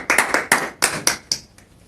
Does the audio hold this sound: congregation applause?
yes